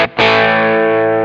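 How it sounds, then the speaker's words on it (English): An electric guitar on a humbucker pickup, driven through a Tube Screamer overdrive pedal, rings out as one loud sustained chord after a quick strum, fading only slightly over a second. "Tube Screamer type pedals boost the middle frequency of the sound."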